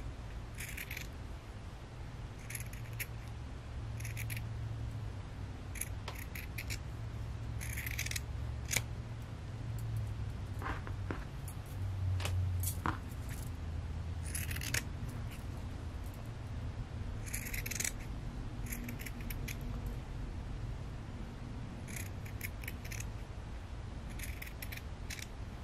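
Scissors trimming fabric around an in-the-hoop yeti zipper pouch, repeated sharp snips in uneven clusters, close and quiet over a faint low background hum, no voices.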